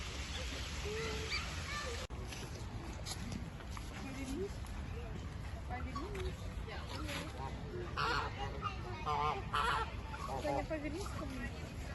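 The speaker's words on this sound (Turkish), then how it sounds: "Burada gene ördekler, flamingolar" A flock of ducks and flamingos at Cologne Zoo calling with honks and squawks, scattered and continuous, over a busy murmur of voices nearby.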